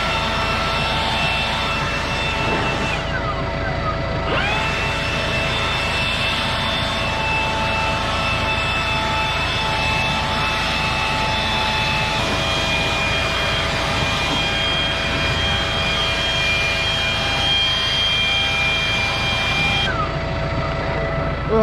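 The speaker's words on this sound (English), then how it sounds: "Well, battery's dying on the blower anyway," A battery-powered leaf blower clears debris outdoors on a farm, making a loud, continuous whining roar with brief dips in pitch as it is swung about. It runs steadily throughout with no talking.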